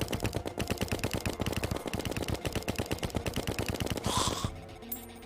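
Rapid game gunfire from Terraria rattles in a fast steady stream of bullet shots, loud and continuous, ending in a short burst of impact noise before the firing stops.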